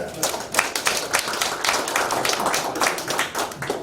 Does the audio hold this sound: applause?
yes